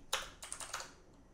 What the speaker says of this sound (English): You start typing the beginning of the name, hit tab, it'll finish the file name.